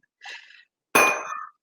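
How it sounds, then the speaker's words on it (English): Two bright clinks as a cocktail glass is set onto a metal shaker during a cocktail class, a light tap followed by a louder ringing clang, close and clear with no talk. "place that glass on top of that shaker"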